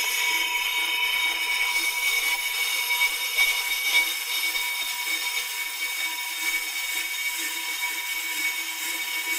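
PRO-CUT on-car brake disc lathe running, a steady high mechanical whir with a constant tonal hum, faint and even throughout with no talk.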